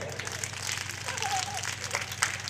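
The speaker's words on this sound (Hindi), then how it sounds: "3 उंगली से बजाइए।" Crowd at a Gayatri yajna festival clapping with three fingers, a softer, patchy patter of light claps with a voice briefly audible underneath.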